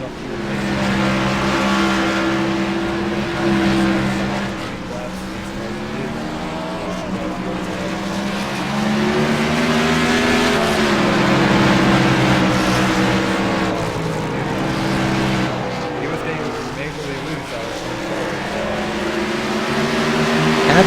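Race cars circling the Richmond track during green-flag pit stops in a Verttech Cup event, engines droning steadily and loudly for the whole stretch with shifting pitch as cars pass, with faint commentary beneath.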